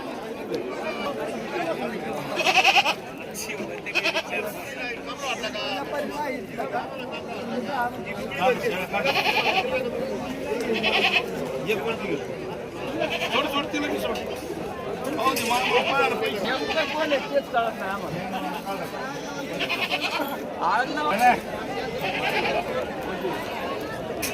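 Goats and kids at a Saturday livestock market in Shirur taluka, Pune district, bleat in scattered bursts through steady crowd chatter and nearby talk.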